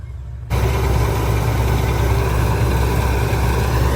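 A New Holland tractor engine idles with a loud, steady low rumble that starts abruptly and continues unchanged, close by.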